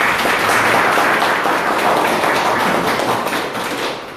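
Audience applause in a Korean sales lecture hall welcomes the guest instructor, a Chevrolet dealership branch manager, to the front: dense, loud, steady clapping that fills the whole stretch and eases slightly at the end, with no talk over it.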